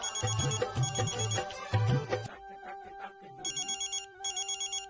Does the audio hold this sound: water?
no